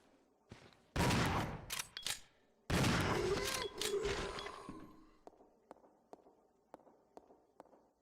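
Gunfire in the Resident Evil 0 HD Remaster video game, two loud sharp volleys followed by softer, evenly spaced single shots or steps fading toward silence.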